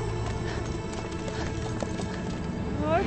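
A horse gallops at close range during a period drama, its hooves clip-clopping rapidly and continuously, with a brief whinny near the end and voices partly mixed in.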